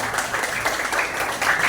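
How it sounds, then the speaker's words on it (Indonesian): Students in a classroom clap together in a brief, dense burst of applause that stays steady and moderately loud throughout. "beri tepuk tangannya dong buat teman-temannya ini"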